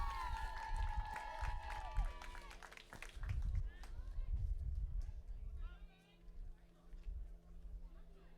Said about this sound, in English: Massive cheer you could hear.